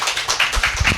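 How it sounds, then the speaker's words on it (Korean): A small group of people clapping briefly indoors, a short burst of several close, uneven claps lasting about a second. "박수 쳐줘요."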